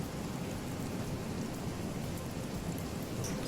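Rain spell cast in the video game Divinity: Original Sin, a steady dense hiss of falling rain with a low rumble like thunder, continuous and fairly loud with no talk.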